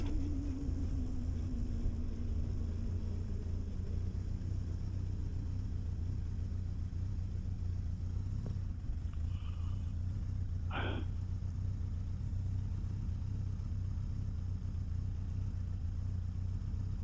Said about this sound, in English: She's idling perfectly right now.